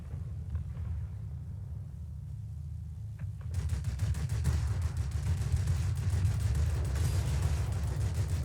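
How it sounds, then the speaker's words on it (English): Aircraft cannons on an SM.91 plane fire in the World of Warplanes combat game. After a quieter stretch of engine drone, rapid dense bursts of cannon fire break out and keep hammering loudly to the end. "The cannons are not overheating quickly."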